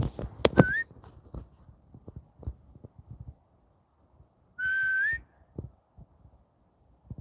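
Two sharp rising human whistles call out, one early and one held longer later, with soft hoof clops and shuffling in between.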